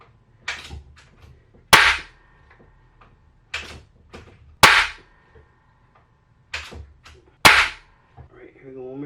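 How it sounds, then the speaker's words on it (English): An Umarex Fusion 2 PCP pellet rifle converted to HPA fires three sharp, close cracks about three seconds apart, each followed by a metallic click or pellet impact, with quieter clicks in between. "Alright, here we go, one more shot."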